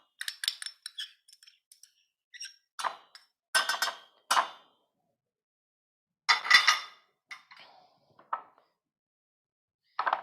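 Tablespoon scraping hoisin or teriyaki sauce out of small jars while cooking Korean BBQ, sounding as a series of short, close clinks and scrapes of metal against glass, with gaps of silence between bursts.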